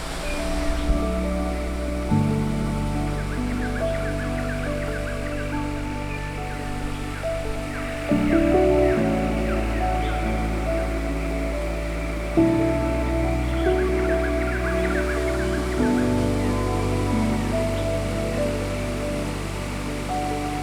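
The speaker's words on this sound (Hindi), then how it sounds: "और आखिरकार हम पहुंच गए पीट छुजू वाटरफॉल पे।" Steady broadband roar of the Peer Chhajju waterfall in Bhimber district, Kashmir, rushing continuously with no pauses, close and fairly loud, with a faint low hum and occasional shifts in the tone of the water.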